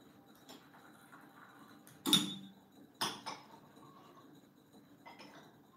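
Gongfu tea brewing with dark sheet tea: two sharp, close clinks of tea ware stand out against a quiet room, followed by a faint softer tap, with no talking.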